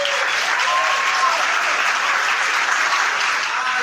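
A church congregation applauding in a dense, steady burst of clapping that holds at full strength throughout, with faint voices mixed in.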